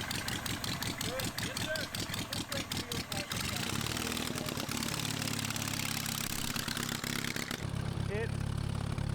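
A small minibike engine, fitted with a larger pulley, fires up with a quick rapid putter that settles into a steady, close idle. Brief talk can be heard near the start.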